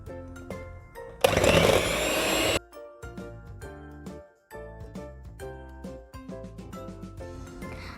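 An electric beater whirs loudly for about a second and a half while creaming butter and powdered sugar for a marble cake, then cuts off, leaving music playing alone.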